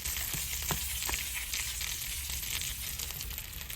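A chicken breast sizzles in a stainless steel pan while being basted, giving a continuous close hiss of spattering fat broken by a few faint clicks.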